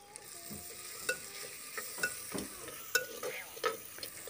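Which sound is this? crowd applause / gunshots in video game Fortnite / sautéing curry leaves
sautéing curry leaves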